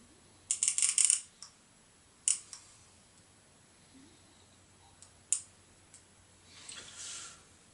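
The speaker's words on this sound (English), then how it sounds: "We turn this round until it's 2 clicks before the 1, so that we wind it on, click, wind on" A film camera's advance lever clicks while film is wound on: sparse, sharp, close mechanical clicks come singly and in short bursts against near silence, with a softer rustle near the end.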